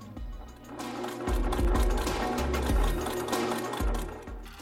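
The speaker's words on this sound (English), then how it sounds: "This is the first time I've used a sewing machine in about 20 years" A sewing machine stitches fabric for a homemade Spider-Man mask, its motor running in steady bursts with a rapid needle clatter that starts, stops and surges again, close up and loud with no talking.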